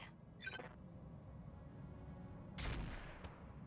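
Weapon fire from mechs in the RogueTech battle game, a distant muffled boom and burst around the middle followed by a single sharp crack, over a low rumbling game backdrop with no talk.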